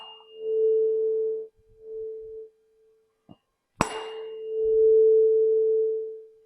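A steady pure tone rings from a resonance air column tube in a school physics lab, set near the resonating length, swelling loud and sustained after a brief pause and a sharp click.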